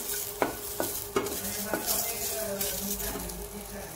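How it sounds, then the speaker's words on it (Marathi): Small chopped onion dry-roasted without oil in a kadhai, stirred with a utensil: a few distinct scraping knocks against the metal over a soft continuous sizzle-like hiss, close and fairly clear. "या कढईमध्येच आपण 1 कांदा आहे छोटासा चिरून घेतलेला हा गरम करत आहोत।"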